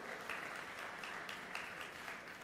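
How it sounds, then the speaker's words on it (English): Audience applause for a speaker at a tech startup summit evening event, a steady, moderately distant wash of clapping with no speech over it. "Big applause for Mr. Ritvik Sharma as well."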